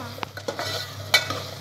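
Potato and tomato curry being stirred in a pan over a fire in a village kitchen: several sharp scrapes and clinks of a spoon against the pan over a soft sizzle.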